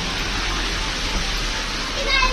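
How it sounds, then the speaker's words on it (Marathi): Heavy morning rain pours down as a steady, dense hiss that fills the whole short stretch, with a few brief higher sounds near the end. "किती जोराचा पाऊस आला"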